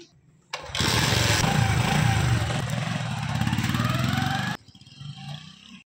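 A motorcycle engine starts with a sudden loud roar, runs steadily at close range for about four seconds, then cuts off abruptly.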